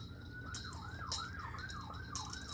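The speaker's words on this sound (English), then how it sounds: "sirens on my end" An emergency siren wails outside, distant and muffled, with a steady rising and falling sweep repeating about every half second over low traffic rumble; no voices.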